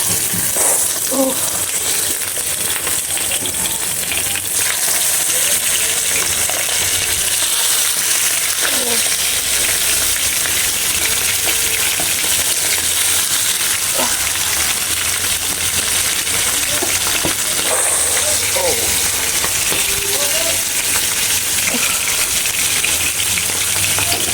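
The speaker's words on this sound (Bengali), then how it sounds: "আমি পাবদা মাছগুলো একটু হালকা করে ভেজে নিব, বেশি না, জাস্ট হালকা করে একটু ভেজে তারপর হচ্ছে রান্নায় চলে যাবে" Pabda fish fry lightly in oil in a pan, a steady crackling sizzle running continuously with occasional small pops and the odd clink, quiet voices faintly present in the background.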